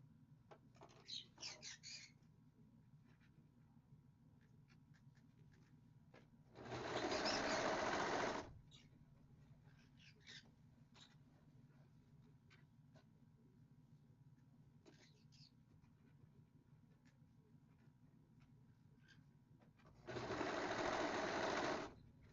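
A sewing machine sews a quilted jacket in two short, loud bursts of fast stitching, each lasting about two seconds and separated by a long quiet stretch with faint handling taps.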